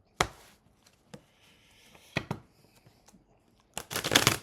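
Someone shuffling a brand new deck of playing cards by hand, giving a few sharp riffling bursts and snaps separated by quiet pauses, with a longer flurry of shuffling at the end; close and fairly soft.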